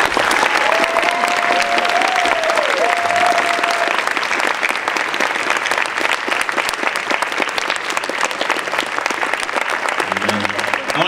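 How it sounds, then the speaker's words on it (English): A convention panel audience for comic book creators at BronyCon 2014 claps in loud, sustained applause that fills the room steadily, with a few voices and murmurs mixed in. "let's give a big round of applause for our comic book guest"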